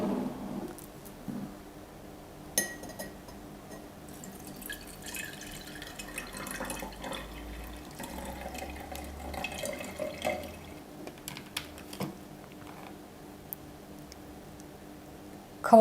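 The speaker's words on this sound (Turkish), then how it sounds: "Önce bir süzgeçte süzeceğim." Water from soaked grapes drips through a kitchen strainer for a sourdough starter, soft scattered drips and small splashes at close range, quiet and irregular, with a few sharper ticks.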